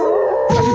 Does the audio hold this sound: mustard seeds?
no